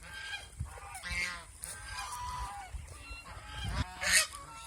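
Large ducks weighing five to nine kilograms calling at a duck farm, a flock giving repeated nasal honks and squawks close by, overlapping irregularly.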